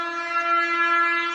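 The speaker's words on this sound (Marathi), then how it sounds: "मुंबईवरून ट्रेन येत आहे," An express train from Mumbai passes Kudal railway station without stopping, its horn sounding one steady, sustained blast that holds at an even level from start to finish.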